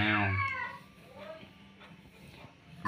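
A young child imitates a cat with a loud, drawn-out meow at the start, followed by quieter, softer vocal sounds in a calm room.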